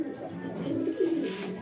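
Racing pigeons cooing in their loft, a few soft, low rolling coos close by over a quiet background.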